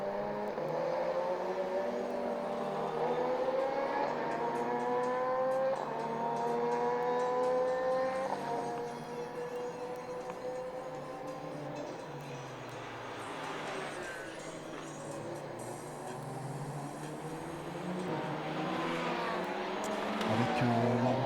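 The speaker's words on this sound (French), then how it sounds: "Avec l'embouteillage évidemment habituel à la sortie de la chicane et cette magnifique BMW flanquée du numéro 105 du duo Jansen-Poland, la M6 GT3." BMW M6 GT3 and other GT race cars at Spa-Francorchamps during SuperCar Challenge qualifying roar past in a steady stream of engine notes rising and fading, while a commentator talks over the action.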